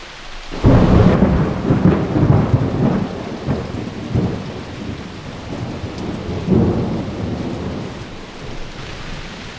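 Heavy rain pours steadily while deep rolling thunder rumbles close by, swelling twice and fading.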